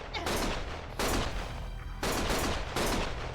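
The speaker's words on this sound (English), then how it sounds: "Stop shooting!" Sustained automatic gunfire in the video game Lost Judgment: dense, loud bursts of rattling shots roll almost without pause across a few seconds, in three surges.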